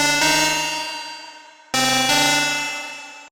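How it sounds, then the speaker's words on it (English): FM synth lead patch named Game for tech house and indie dance, with a bell-like metallic tone: two loud struck notes, each ringing out and slowly fading, heard alone. "FM lead, and it sounds like this."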